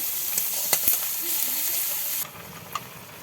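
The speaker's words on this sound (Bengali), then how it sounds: "মশলাগুলো এখন ভাজি ভাজি করে নিচ্ছে।" Spice paste of ground masala with turmeric, salt and chili powder fries in a pan with a steady, close hiss that drops sharply after a couple of seconds, marked by a few light stirring clicks.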